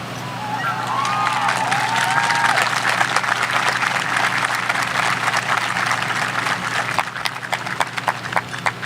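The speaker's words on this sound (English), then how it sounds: "Thank you for giving them the applause they deserve." A graduation audience applauds spring athletic captains from baseball, flag football, lacrosse, tennis, softball and track and field, a dense, steady wash of clapping held at full strength for the whole stretch, with faint cheers riding on top.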